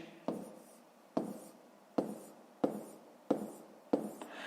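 A pen writing out a fifth-grade math answer on paper: six crisp, evenly spaced strokes about a second apart, close and fairly quiet, each a sharp scratch that trails off, with no talking.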